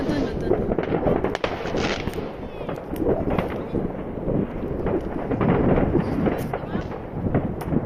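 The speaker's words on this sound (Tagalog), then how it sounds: "Parang paputok." Rapid crackling pops of New Year's Eve firecrackers in Germany going off continuously, dense and fairly loud, with wind noise and voices talking over them.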